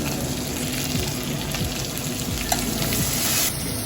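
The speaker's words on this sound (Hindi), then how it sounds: "इनको हम भूनेंगे।" Ingredients for aloo mongray fry in a pan with a loud, dense, unbroken sizzle close by, faint stirring scrapes running through it.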